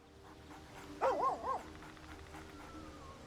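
A dog in Baldur's Gate 3 gives a short burst of two or three close barks that rise and fall, then quiet low ambience with a faint whine.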